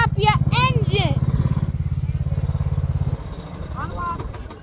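A small engine putters with a rapid, steady chug under nearby talking for about three seconds, then fades to a softer running sound.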